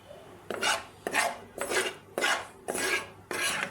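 A spoon scrapes and clinks against a metal pot and bowl while small fish in ground spice paste are moved over, six distinct rhythmic strokes, close and fairly loud, with no talking.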